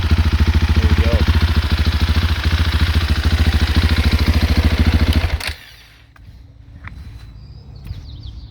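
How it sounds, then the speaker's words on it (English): A Husqvarna Svartpilen 701 motorcycle with its catalytic converter deleted idles loud and close, a steady rapid thumping that cuts off abruptly partway through, leaving a quiet background with faint birdsong. "it's just idling or just sitting at an RPM, it sounds like stock"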